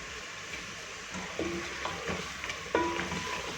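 Onions sizzle softly in a pot for beef haleem, with occasional spoon scrapes and stirs, quiet and alone.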